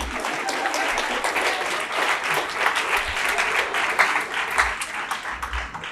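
Seminar audience at a health seminar in Vijayawada applauding steadily, a dense, even wash of many hands clapping for six seconds.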